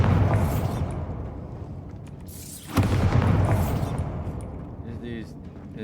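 A Bombarda blast spell detonates in Hogwarts Legacy with a sudden loud boom and rushing burst of noise mid-clip, amid dense game effects and a voice.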